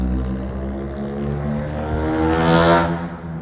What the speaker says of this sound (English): As the loud cars rip by.